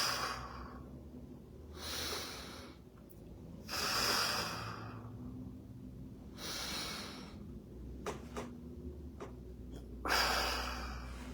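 Slow deep breaths during a qigong exercise, several long inhales and exhales in a steady rhythm with pauses between, close and soft, plus a few short sharp sniffs near the end.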